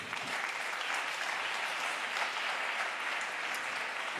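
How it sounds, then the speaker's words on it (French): Festival audience applauding a speaker taking the stage, dense even clapping throughout, loud and close with no voices on top. "Vous pouvez l'applaudir."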